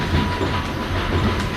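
An NYC Subway R68 train on the B line toward Brighton Beach runs steadily in the OpenBVE simulator, with a continuous low rumble and faint clickety-clack of wheels on rail throughout.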